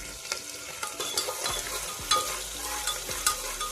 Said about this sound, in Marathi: सो आता थोडंसं कांदा ब्राऊन होईपर्यंत छानपैकी मी भाजून घेते याला